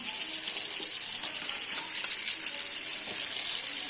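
Fish frying in a pan with mango curry, a steady broadband sizzle that holds evenly at moderate loudness throughout with faint crackles, no voices.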